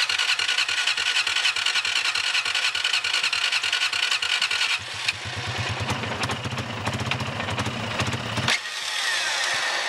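A motorcycle engine with a carburettor fault runs loud and close, buzzing steadily, then shifts into a rougher, lower pulsing chug partway through before evening out again near the end.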